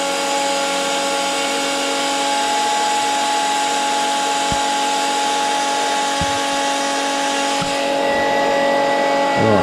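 An LS1 V8 fitted in a mini truck idles steadily and loudly up close, its droning hum held constant with a few faint clicks and a slight rise near the end as the idle is wound up.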